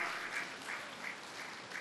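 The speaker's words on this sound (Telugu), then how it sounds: "ఈ తెలుగు గడ్డ గట్టిగా చప్పట్లు కొట్టుకుందాం" Audience applause during a spiritual talk on meditation by Damodar Mahaswami: a soft, distant wash of clapping, fairly even and sustained, heard alone without speech.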